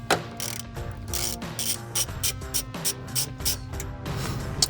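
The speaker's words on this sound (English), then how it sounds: "So now this is where you're gonna use your 10mm socket. Just unscrew this off." A 10mm socket ratchet unscrews a ground bolt on a 2005-2010 Mustang GT, a close, loud run of rapid clicking in bursts with short pauses.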